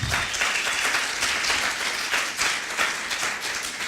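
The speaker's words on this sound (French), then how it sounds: "qui mérite largement vos applaudissements" An audience applauds at the opening of a study days event in Nîmes, a continuous even patter of many hands clapping, fairly soft and from a distance, with no voices over it.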